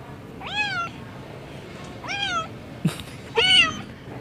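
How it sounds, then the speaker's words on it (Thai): A kitten's meows play back from a phone speaker: three clear, high, rising-falling cries spaced about a second apart, close and fairly loud, with a brief knock between the last two. "เดี๋ยวเราจะเปิดเสียงลูกแมวนะครับ"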